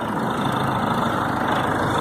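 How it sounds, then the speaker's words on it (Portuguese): A tractor engine runs loud and close, a steady heavy rumble heard by someone on a bicycle, constant throughout with no speech. "Tá vindo um trator, ó."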